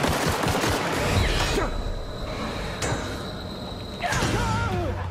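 Gunfire from The Outer Worlds on PS4 rattles in repeated loud bursts with sharp cracks and thuds, a steady high tone sustaining between shots, with no voice over it.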